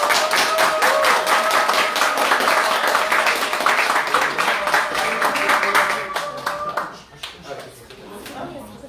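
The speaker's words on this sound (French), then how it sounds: "je veux que tout le monde applaudisse" A church congregation at a special baptism service applauds, dense steady clapping from many hands that fades out near the end, with voices and cheers mixed in.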